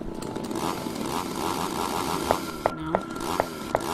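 A chainsaw revs in the Mad Father video game, a harsh buzzing engine drone with several sharp clicks or knocks near the end, loud and steady with no talk.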